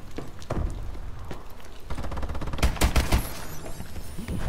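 Automatic weapon fire in Call of Duty: Advanced Warfare, loud rapid bursts of close gunshots clustering toward the end, with scattered single shots earlier and no speech over them.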